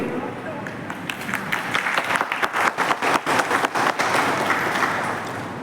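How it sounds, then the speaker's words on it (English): A crowd applauds guests taking their seats at an Onam celebration held by a ship repair unit, clapping building to a dense, loud, rhythmic round before fading out. "May I request everyone to join me in extending a heartfelt round of applause as they graciously take"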